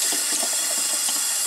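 Small indoor home fountain giving a steady, close, bright trickle and splash of flowing water with no break.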